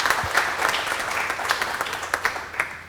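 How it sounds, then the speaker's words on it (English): Audience at a panel discussion event breaks into applause, a fairly brief burst of many hands clapping that swells and then thins out, with a few distinct claps near the end. "A round of applause for him."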